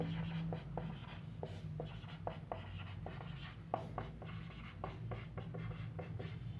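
A pen scratches across paper while notes are taken during a history lesson, in steady, quick strokes and taps close by, with a low hum underneath.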